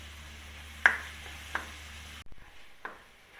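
Chopped onions sauté in a pan on a stovetop with a low, steady sizzle, punctuated by a few sharp spatula scrapes and stirs. The sizzle drops away partway through. Quiet and close, with no talk.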